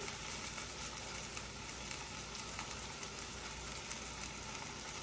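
Beef seasoned with rosemary and onion powder sears in a pan, giving a steady, even sizzle that stays faint but continuous throughout, with no talking.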